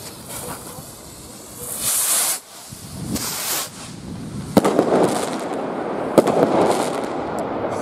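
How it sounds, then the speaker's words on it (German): Komet Gold Glanz firework rockets launching with rushing hisses, then sharp cracks and a long crackling, sizzling spray of bursts, loud and fairly close outdoors. "Die Gold-Glane oder Gold-Raketen von Komet."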